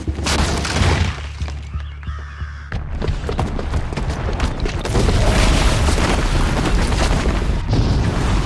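A booby-trapped bomb detonates in the video game Horizon Zero Dawn with a loud, sustained boom and rumbling, crackling debris. It swells again partway through, with no talk over it.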